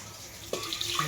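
Water pours into a pot of dal cooked with turmeric and drumstick, a brief trickling splash that starts partway through and continues steadily, fairly close and quiet with no talk.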